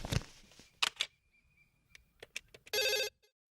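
A landline telephone in a Telugu film scene gives one short, bright burst of ringing near the end, after a few scattered knocks and clicks in an otherwise quiet room.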